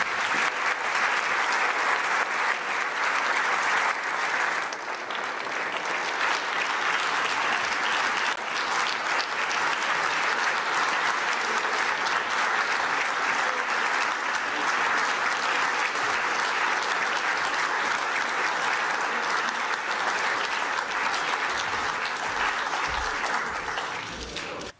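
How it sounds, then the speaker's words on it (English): A large conference audience at the Munich Security Conference applauds the US Vice President with loud, sustained, dense clapping that carries on steadily for about twenty-five seconds, easing slightly after the first few seconds. "offer to the Vice President of the United States a warm round of applause"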